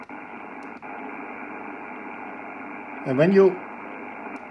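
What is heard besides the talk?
shortwave radio background noise on 80 meter band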